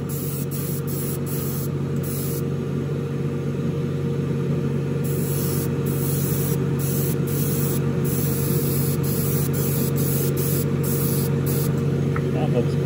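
An airbrush or spray can lays a second coat of paint on a Revell 1971 Boss 351 Mustang scale model car, a steady close hiss running throughout with brief pauses in the spray.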